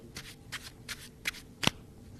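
Top playing card scraped across the beveled edge of a deck, mimicking a riffle shuffle: four soft scraping bursts followed by a sharper, louder fifth, close to the microphone with no talking.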